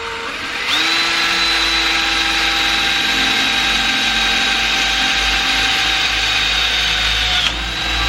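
Power drill whining steadily at high speed for about seven seconds, starting abruptly and stopping near the end, used while building a heat shield cold air intake box on an Audi; close and loud, no talking.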